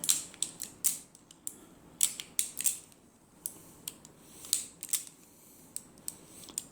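A Dan Wesson revolver with a 15-inch barrel is handled up close, with a series of sharp metallic clicks and creaks as the cylinder is rotated. The clicks come in uneven clusters with short pauses between them.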